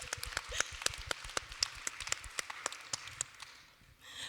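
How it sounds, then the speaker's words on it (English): A small audience at a women MPs centenary event applauds with sparse, distinct claps that stay fairly faint and distant, thinning out and fading near the end. "Round of applause."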